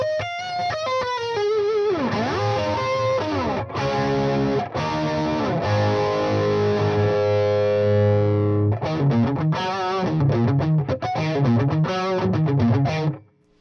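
Electric guitar played through a Metropoulos Metro-Plex amp turned fully up, giving a loud, distorted Vox-like tone with sustained chords, bends and choppy riffs, with no talking over it.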